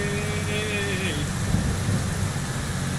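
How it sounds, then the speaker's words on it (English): Heavy in-game rain pours down steadily in a farming simulator, a dense continuous hiss with low engine-like rumble beneath and some faint tonal hum early on. "it's pouring down rain"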